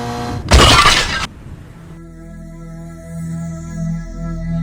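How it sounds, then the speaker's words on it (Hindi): A motorbike crashes into a tree as a sound effect: a sudden loud smash with a shattering burst lasting under a second, then a fading low rumble and hum, with no voices. "तो बाइक जाकर सीधे अरुण के घर के सामने लगे एक पेड़ से टकरा जाती है।"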